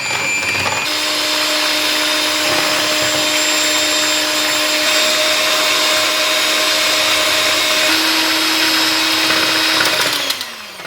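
An electric blender whips lassi into a froth, a loud, steady motor whine running continuously for about ten seconds before switching off, with no voices.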